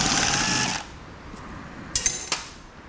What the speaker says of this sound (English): just start taking screws out that you see everywhere